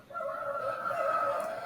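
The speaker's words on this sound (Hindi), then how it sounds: "ध्यान से सुनिएगा, मुर्गे की बांग भी सुनाई देगी आपको यहाँ पर।" A rooster crows in the early morning, heard from a balcony: one long, sustained cock-a-doodle-doo carrying from a moderate distance over quiet surroundings, with no talking.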